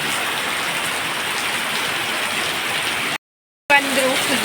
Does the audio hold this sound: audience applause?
no